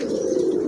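Pigeons cooing up close, a single soft, throaty coo heard clearly with no speech over it.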